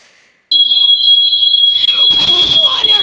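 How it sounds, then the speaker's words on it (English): Shrill, steady electronic tone like a smoke alarm starts abruptly and holds loud and continuous, with a voice talking over its second half. "It sounds like a smoke alarm."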